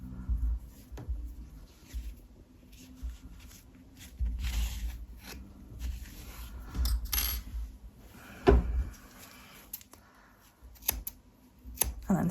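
Scissors snip off loose yarn ends on a super chunky crocheted bear bonnet: a few quiet, sharp clicks close by amid soft handling rustles, with no one speaking.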